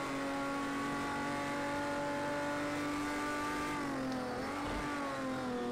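A Porsche race car engine in a racing video game drones at steady high revs, a smooth sustained whine that dips briefly as if shifting, then climbs again.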